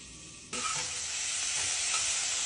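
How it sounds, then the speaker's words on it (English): Cauliflower and aubergine cooking in an air fryer used like a lidded wok, a hissing sizzle that swells suddenly and then holds steady, with faint stirring, no talk. "Giving it a stir."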